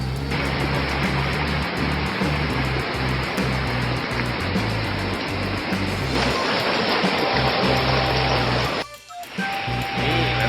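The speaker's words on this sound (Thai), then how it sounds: "มีน้ำตกน่าจะเป็นน้ำตกที่เขาทำขึ้นมาเองนะฮะหรือเป็นน้ำตกธรรมชาติ" A waterfall beside a riverside restaurant at Mon Jam in Chiang Mai gives a steady, loud, close rushing roar that runs unbroken, with no voices.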